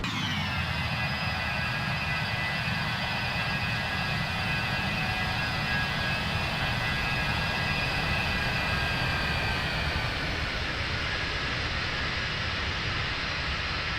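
BAe 146 jet airliner in flight in the X-Plane 12 simulator, a steady loud broadband engine roar with a high whine that fades slightly near the end, continuous and unbroken.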